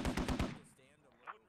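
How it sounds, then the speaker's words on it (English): A rapid burst of four or five heavy machine-gun rounds from an MRAP vehicle in the Squad video game, close and loud, then fading into faint background noise and a distant rattle. "this MRAP is shooting friendlies in the mosque tower"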